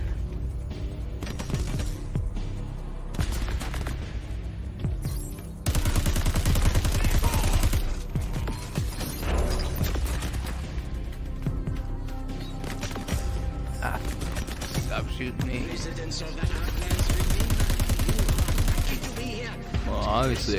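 Rapid automatic gunfire and fusillades in the video game Crackdown 3, dense bursts with booms and mechanical clatter running throughout, with a player talking over parts of it.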